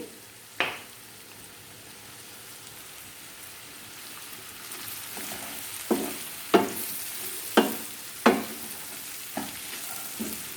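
Cauliflower pieces being stirred with chilli powder and salt in a frying pan: a steady soft sizzle with a few sharp, separate spatula scrapes and knocks, the clearest clustered toward the end, close by and with no voices.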